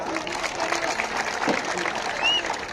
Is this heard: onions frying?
no